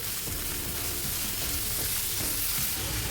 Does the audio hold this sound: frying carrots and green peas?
yes